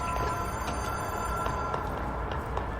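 A telephone rings in the video game Control, heard as a steady, sustained electronic ring that holds at an even level over a constant background hum, with no voices.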